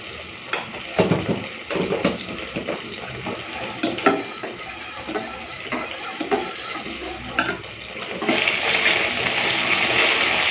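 Stirring and sizzling sound from a pot of dal simmering with turmeric and salt, with scraping strokes and light bubbling. Near the end a burst of water is poured in, bringing a broad hiss that continues.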